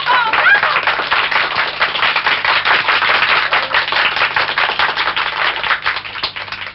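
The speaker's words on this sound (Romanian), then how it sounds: "Aplauze! Bravo!" Audience applause from a 1964 recording: steady, dense clapping from a crowd, loud and unbroken throughout, with a slightly dull, band-limited old-recording quality.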